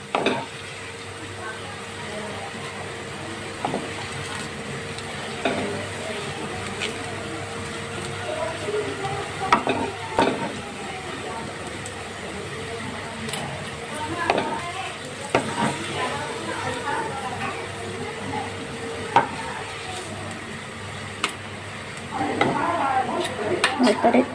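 Tomatoes frying in a pan for a Santhali tomato dish, a steady soft sizzle running throughout with scattered scrapes and knocks of stirring, while a voice talks over it at intervals.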